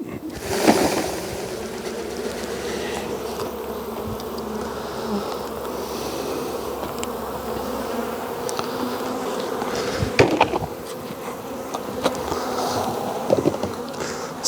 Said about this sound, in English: So this is half a cup of bees,